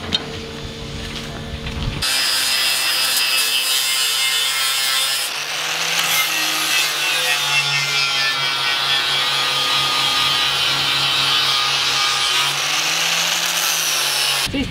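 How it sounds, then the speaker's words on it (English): Angle grinder cutting open a steel boat gate, a loud sustained high-pitched grinding whine with a brief lower-pitched start, then continuous cutting whose pitch wavers slightly as the disc bites into the metal. "Once I've got that done, I'm in a position to be able to cut the gate open, so. The grinder there, Dylan."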